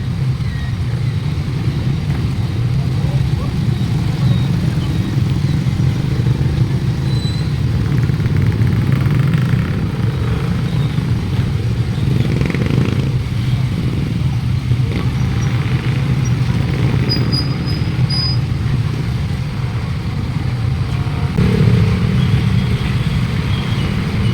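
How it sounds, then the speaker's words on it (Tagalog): Motorcycles and cars stream past on a road in the Philippines, a constant low engine rumble with no break, swelling slightly as individual vehicles pass close by. "mabilis na ang daloy ng mga motorista natin ngayon sa oras na ito"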